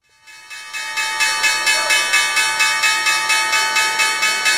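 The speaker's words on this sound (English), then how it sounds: "it's time to ring them bells" A trade bell rings loud and close in a steady, rapid repeated pattern, each strike sustaining a bright metallic ring that builds quickly and continues unbroken with no voices.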